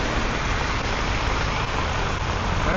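Heavy rain pours in a steady, loud hiss outdoors in Arizona, the dense downpour constant and unbroken, with no voices over it.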